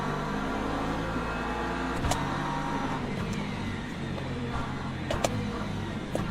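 LMP2 prototype race cars lapping in the racing game Le Mans Ultimate during a multi-class race, producing a continuous, fairly loud engine drone with layered tones and a few sharp clicks, heard without talk.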